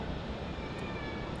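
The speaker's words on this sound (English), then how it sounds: "just landing now is BA flight 712, arrived in from Heathrow. Just landed on runway 28." A British Airways passenger jet arriving from Heathrow lands on runway 28 at Zurich airport, heard as a steady, broad, moderately distant engine roar with no talk over it.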